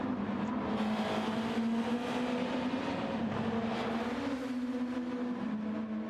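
Race car lapping Fuji Speedway in a racing video game on fresh tyres: a steady, close engine whine holding a sustained pitch with slight rises and dips as it accelerates, loud and continuous with no talk.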